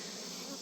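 Dense, continuous buzzing of honey bees from an opened hive of just over three deep boxes, close and steady for a brief moment.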